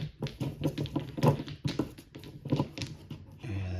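Hong Kong mahjong direction tiles are shuffled by hand on a table, a close, busy run of small clacks and taps in uneven bursts, with no talking.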